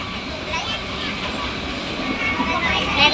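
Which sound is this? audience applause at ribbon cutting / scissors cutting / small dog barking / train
train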